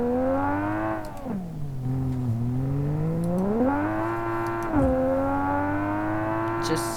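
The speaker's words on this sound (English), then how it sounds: "with this exhaust, the shifting sounds so aggressive" A car with an aggressive exhaust in the BeamNG.Drive driving game revs up repeatedly, engine pitch climbing then dropping sharply at each gear shift, loud and close throughout with no talk.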